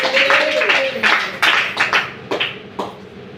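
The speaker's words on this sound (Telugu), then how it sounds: "చప్పట్లు కొట్టి స్తోత్రం చెప్పండి" A church congregation clapping in praise, with several sharp bursts of claps in an uneven rhythm over a sustained tone, moderately loud and close.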